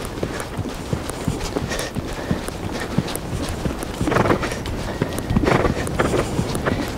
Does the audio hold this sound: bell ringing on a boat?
no